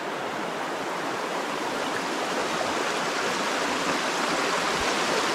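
Steady, even rush of a flowing river running down its slopes through woodland, a continuous broadband wash with no breaks, no voices and no other sounds.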